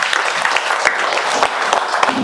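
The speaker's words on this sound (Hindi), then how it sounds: "ताली बजाते हैं।" Applause at a church inauguration service, many hands clapping in a steady dense patter that fills the space, close and fairly loud throughout.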